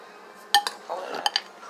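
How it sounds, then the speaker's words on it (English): A spoon clinks against a bowl of nature cereal, with a few sharp metallic taps and softer scraping in between, close and clear. "I'm gonna get a spoon to eat it. Stir it up."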